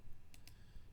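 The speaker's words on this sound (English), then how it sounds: "I'm actually going to hit the F2 key on the keyboard." Two quick, faint clicks of a key press on a computer keyboard, closely spaced and heard alone against low background hum.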